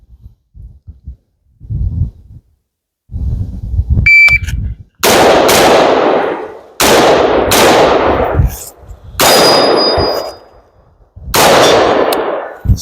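Loud, close gunshots at a shooting range, each followed by the ringing clang of a struck steel target, in a quick string of about five shots after some quieter handling noises.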